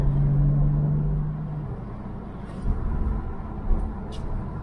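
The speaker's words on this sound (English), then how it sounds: "It sounds like a Porsche." A sports car engine drones low and steady, then the tone drops as it shifts and keeps rumbling up close.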